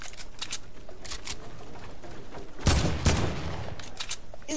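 Gunfire in the video game Fortnite: scattered sharp shots, then a loud, dense burst of rapid fire before sparse shots resume.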